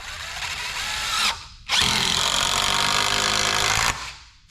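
A power drill drives 3-inch number 9 Torx 25 screws into pallet wood for shelving, making two sustained, loud whirring bursts split by a short pause, close by and with no talking.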